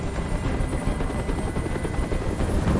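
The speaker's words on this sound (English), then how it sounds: "Tell that helicopter to get out of here!" A helicopter hovers overhead in the video game Detroit: Become Human, its rotor thudding in a steady, fast chop with a constant engine whine, loud and unbroken.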